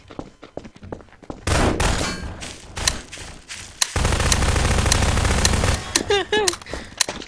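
Bursts of automatic gunfire in a Garry's Mod Prop Hunt round crackle loud and close, with rapid shot trains, metallic clangs and pauses between volleys, and players talking in places.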